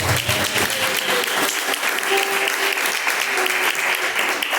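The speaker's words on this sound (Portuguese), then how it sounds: "Palmas que louvam o nome do Senhor." A church congregation claps in praise during a live worship service, a loud, dense and steady burst of many hands sustained throughout with a crowd murmur beneath.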